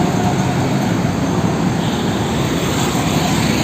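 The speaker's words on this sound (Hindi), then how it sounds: "मेट्रो वो जा रही है, वो है मेट्रो स्टेशन" A Delhi metro train rumbles past near Okhla Bird Sanctuary station, a steady loud broadband roar with low rail rumble held throughout, no voices over it.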